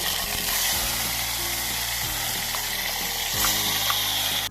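Tomato puree added to hot oil over a low flame while making kantola shaak, a loud, dense, close sizzle that stays constant, with a low mechanical hum running underneath.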